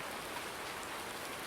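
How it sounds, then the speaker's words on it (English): Late-summer rain in the farming video game Console Life Farming, a dense, even patter of raindrops hitting surfaces, steady and close with no talking. "late summer has come some summer rain"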